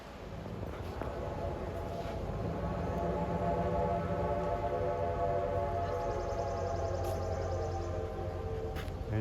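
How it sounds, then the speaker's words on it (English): Reading 6-chime whistle on steam locomotive 2102 sounds across the Schuylkill River Valley, a sustained chord-like tone held for several seconds over the steady rumble of the moving train. "you can hear that beautiful Reading 6-chime whistle blowing in the Schuylkill River Valley"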